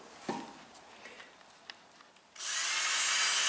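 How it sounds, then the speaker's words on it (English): After a few clicks and taps, a power drill whirs up abruptly and runs continuously, a loud high-pitched grinding close by, drilling into the wood of a broken mailbox stand. "You want to drill it out again, just so we get the sawdust and stuff out of it?"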